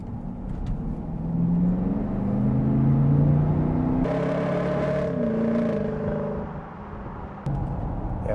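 An Audi Q7 with a 4.2 TDI V8 fitted with V12 turbos accelerates from inside the cabin, a deep, loud engine drone rising in pitch, then easing off with a brief drop as it shifts gears.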